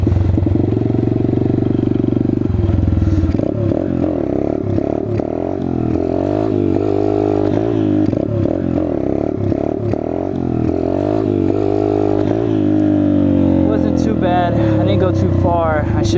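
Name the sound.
Chinese dirt bike engine revving during wheelie attempt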